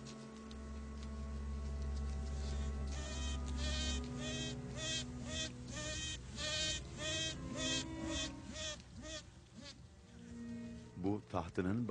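A queen bee's sustained, reedy piping tone rises and repeats in short pulses over a steady insect buzz, with a few sharper chirps near the end.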